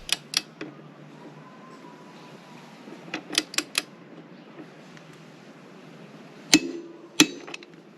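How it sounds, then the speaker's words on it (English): A torque wrench with a 27 mm socket tightening a Honda motorcycle's rear axle nut to 74 foot-pounds, heard as a few sharp metallic clicks and knocks in small clusters, close and distinct over a quiet hum, with no talking. "Use the 27 millimeter socket on the torque wrench to retighten the rear axle nut."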